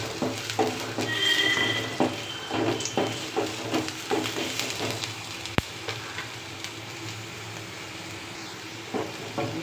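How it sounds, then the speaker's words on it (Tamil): Fresh ginger fries steadily in hot oil, with a soft continuous sizzle, light stirring clicks and scraping throughout, and one sharp tap midway. "இந்த இஞ்சி நல்லா பச்சை வாடை போகிற அளவுக்கு நல்லா எண்ணெயில் வதக்கி எடுத்துடுவோம்."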